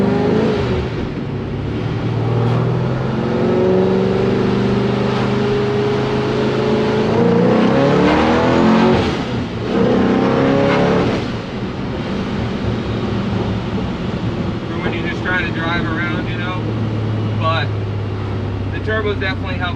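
Car engine fitted with a ProCharger centrifugal supercharger drones and surges while driving, a loud, steady rumble with rising revs and brief whooshing swells from inside the cabin.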